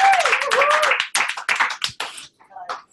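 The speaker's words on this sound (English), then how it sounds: "Hey, clap it up." A small group claps in quick bursts indoors, mixed with cheering and voices, before the clapping thins out.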